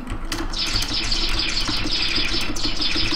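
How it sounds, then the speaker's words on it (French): Game bird sound effects in CraftStudio, repeated rising chirps at shifting pitches over a low steady background rumble. "on a à la base des bruits d'oiseaux à la base, on les fait varier en hauteur"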